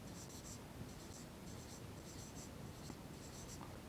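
Marker or chalk writing on a board during a maths lesson, a faint, regular scratching in short repeated strokes over a steady background hiss.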